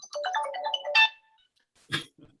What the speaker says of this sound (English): Phone goes off.